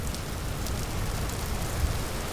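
Steady rain falling in the video game Vintage Story, a constant even hiss of drops on surfaces, moderately loud with no other sounds.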